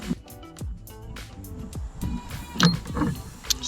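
A wrench works loose a 14mm bolt on a car's idler pulley, making close, intermittent clicks, creaks and metallic ratcheting at an uneven pace.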